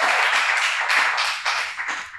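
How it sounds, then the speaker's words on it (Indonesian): Audience clapping for Olympic surfers at a talk event, a brief steady patter of many hands heard moderately close, fading slightly toward the end with no talk over it. "Jadi tepuk tangan untuk para Olimpian kita ini."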